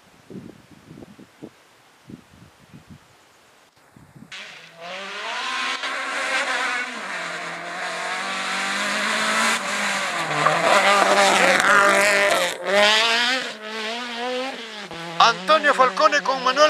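A rally car on a gravel special stage of the Rally Quilmaná Cerro Azul, approaching from a quiet start then roaring past loud and close, engine revving and shifting with gravel crunch, before fading and flaring again.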